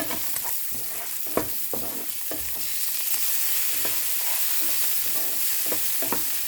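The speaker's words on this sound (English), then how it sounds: "Add the carrot. Just continue on mixing while cooking." Carrot, bacon and corn being stir-fried in oil in a pan with leftover rice, a steady sizzle broken by repeated scraping and clacking strokes of the utensil, close and alone.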